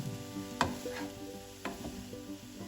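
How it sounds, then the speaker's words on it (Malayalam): Cabbage thoran stirred in a pan, with a few sharp scraping and clinking strokes of the spoon over a faint low sizzle, close and quiet, without speech. "അപ്പോൾ ഇത് നല്ലതായിട്ട് ഇളക്കി ഒഴിച്ചിട്ട് മൂടി വെക്കാം"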